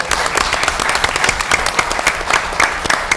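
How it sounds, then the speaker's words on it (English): A room of attendees at a town Board of Selectmen meeting breaks into steady, brisk applause of many hands clapping at once, with no voices over it. "she deserves a round of applause as well"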